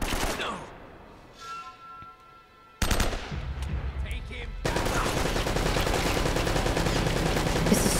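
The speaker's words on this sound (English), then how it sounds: "I really need to get rid of that machine gun." Machine gun fire in Uncharted: Drake's Fortune, dense rapid bursts of gunfire that drop out briefly then return as sustained loud automatic fire alongside other game combat noise.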